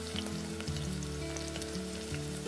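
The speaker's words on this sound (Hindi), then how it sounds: "अब रखिदेबा कटा प्याज को पकई दूची। प्याज को भल भाव भाजी नवा।" Chopped onions fry in hot oil with cumin seeds, giving a steady, close sizzle that runs evenly without pause under a faint low hum.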